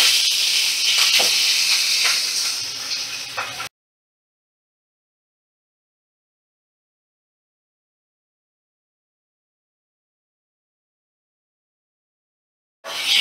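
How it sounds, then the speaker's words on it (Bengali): Magur fish frying in mustard oil in a wok gives a loud, close hiss for a few seconds before cutting to silence. "মাছ ভাজার মতন তেল দিয়ে দিলাম আমি। এবার মাছগুলো একে একে আমি কড়ার মধ্যে দিয়ে দেব।"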